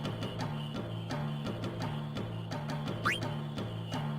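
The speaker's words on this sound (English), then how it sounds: "Oh, look at all these frogs." Frogs croak in a marsh in Final Fantasy 9, a steady rhythmic chorus of repeated croaks with one brief rising whistle partway through, continuous and fairly loud.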